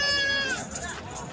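Bleating from a goat standing with her two kids at a Sunday livestock market in Lalukhet, Karachi, short and wavering and close by, heard under someone talking and general market noise.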